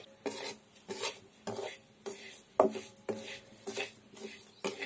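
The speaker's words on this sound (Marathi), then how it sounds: "तर आता थोड्या कमी जाळावरती ही लापशी भाजून घ्यायची आहे" Lapashi rava (broken wheat) is roasted in a pan on a low flame, stirred with rhythmic scraping strokes about once a second. The strokes are close and moderately loud, with no talking.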